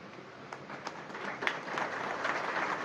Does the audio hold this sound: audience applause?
yes